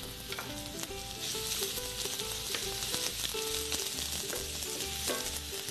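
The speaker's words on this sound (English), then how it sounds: "Sauteing in a pan is one of the nicest flavors you can get." Onions and garlic sauté in a hot pan with a steady, bright sizzle and crackle, while music with a pulsing beat plays underneath and no one speaks.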